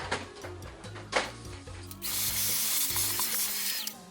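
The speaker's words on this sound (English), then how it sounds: "I'm just going to run my vacuum over that so it doesn't get into anything else" A vacuum cleaner starts partway through, cleaning excess powder off resin coasters, and a steady loud hiss follows a few ratcheting clicks and clunks of handling.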